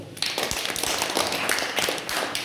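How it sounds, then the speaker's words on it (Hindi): Scattered hand clapping from a small group of children, uneven and close by, with a few sharper claps standing out. "तालियां बजाओ"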